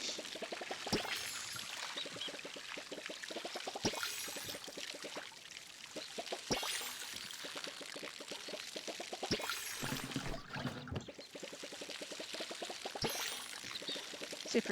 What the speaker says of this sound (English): Now I'm going to water my garden